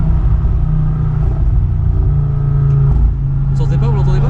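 Audio RS3 2019 with 400 hp and a stock exhaust, heard from inside as a muffled, steady low rumble under the car, with someone talking over it in the later part.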